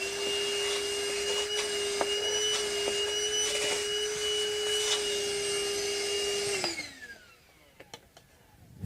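A shop vacuum cleaner roars at a steady pitch while cleaning up during a guitar refret on an Epiphone, then powers down and winds off near the end, leaving quiet room sound with faint knocks.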